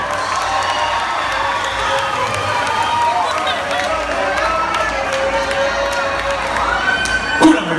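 A crowd at a rock concert in Jalpan de Serra roars with sustained cheering, shouting and clapping, loud and continuous, with voices mixed through the din.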